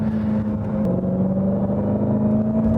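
A Dodge Challenger Hellcat with a 6.2-litre supercharged V8 accelerates hard out of a corner, a loud, steady, droning engine roar that stays close and constant throughout with no talking.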